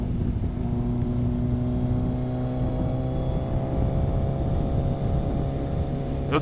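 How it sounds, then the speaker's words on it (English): Heavy truck engine on a road, heard from a bicycle as a loud, steady low drone with a constant hum that fills the whole stretch without clearly fading. "Got a truck coming."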